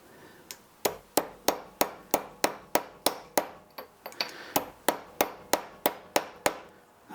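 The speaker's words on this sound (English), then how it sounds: "I'm just watching the Dremel bouncing towards the end of the workbench" A running Dremel rotary tool bounces across a workbench, giving a fast, even series of sharp knocks close by, about three per second, with no voices.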